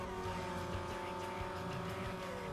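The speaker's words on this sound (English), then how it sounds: "it was kind of bleeding in my ears, the car noise" An engine drones steadily in Need for Speed Most Wanted, a sustained, fairly quiet hum with tonal whine throughout the short stretch.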